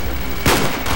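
A single loud gunshot in the Call of Duty Black Ops video game, a sudden close blast with a short decaying tail, heard alone without talk.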